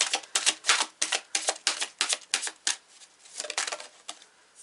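Tarot cards shuffled and handled at close range, a rapid series of crisp flicks and riffles that grows sparser and softer toward the end, with no voice over it.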